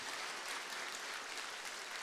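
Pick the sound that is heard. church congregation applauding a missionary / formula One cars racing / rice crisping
church congregation applauding a missionary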